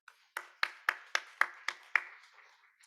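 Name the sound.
congregation clapping to encourage the choir and worship team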